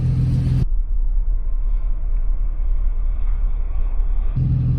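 An Audi B5 S4 idles with a steady, deep rumble while waiting in line, with a louder low throb at the start and end.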